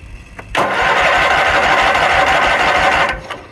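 A Kohler Magnum 20 engine turning over on its first start with the choke on, a loud steady whirring crank of about two and a half seconds that stops without catching, heard close.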